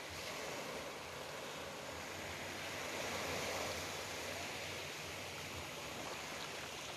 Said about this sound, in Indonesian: Wisatawan yang berkunjung di pantai ini pun dimanjakan dengan deburan ombak di sepanjang bibir pantai